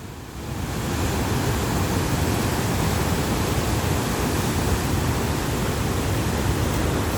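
Strong floodwater rushes through a river in Korea, a steady, loud, broadband roar that swells in within the first second and holds unbroken, with no voices.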